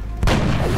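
A single loud gunshot fired in the turn-based strategy game XCOM: Enemy Unknown, a sharp boom that hits abruptly and leaves a long reverberant rumble trailing behind it.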